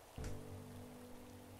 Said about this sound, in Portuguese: Legal que aqui tá chovendo bastante, né?